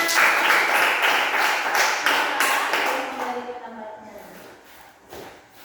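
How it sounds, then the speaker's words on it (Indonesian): A primary classroom bursts into applause for a student group, a dense run of claps and taps that fades out over a few seconds, with voices talking over it. "Ya, tepuk tangan"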